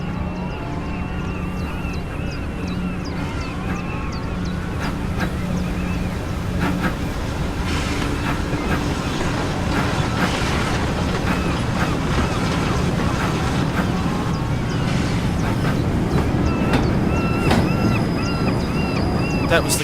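Steam locomotive, a Caledonian Railway 422 class engine in lined black, running on a standard gauge island line in Train Simulator 2019, giving a steady rumbling drive with rhythmic clatter and occasional hiss throughout, with someone talking over it.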